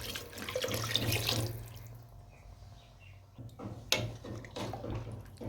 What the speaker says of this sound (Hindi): इस बर्तन से मैंने बासमती लिया था, इस बर्तन से मैं 2 कटोरी पानी यूज़ करूँगी।